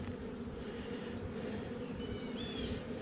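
Honey bees hum steadily around hive frames being moved from an eight-frame to a ten-frame hive in Texas, a soft, even buzz that holds throughout with no talking.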